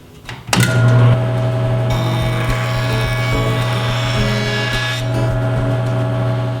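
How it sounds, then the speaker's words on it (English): Jointer smoothing bandsaw marks off a wooden board, a loud steady motor hum with a bright cutting whine that rises and falls as the board is fed through, starting abruptly after a short spin-up. "Now I'll run the board through the joiner to remove any blade marks left from the bandsaw."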